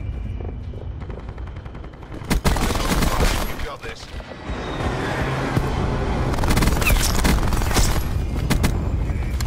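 Minigun firing in a shooter video game, dense continuous rapid fire with booming impacts, growing heavier toward the end, and a voice talking over part of it.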